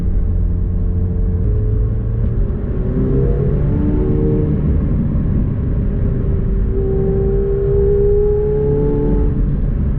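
A deep, continuous engine and exhaust rumble from a 2019 McLaren 720S with stock sport exhaust in track mode, with rising and falling tones as it accelerates and shifts, no voices.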